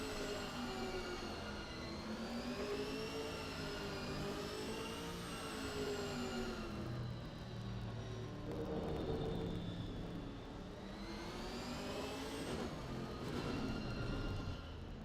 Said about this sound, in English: apologies if the car sound is a little bit too much